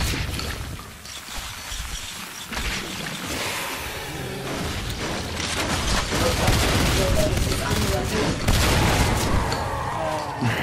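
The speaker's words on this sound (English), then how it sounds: "Grenades." Repeated grenade blasts and gunfire in the sci-fi shooter Natural Selection 2, during a marine team scrim, rumble in loud overlapping bursts throughout, with players talking over the action.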